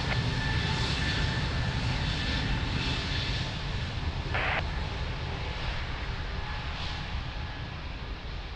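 An airliner on its takeoff roll at Lisbon Airport, a loud, steady, broadband engine roar that holds almost unchanged throughout, heard from close by with no voices over it.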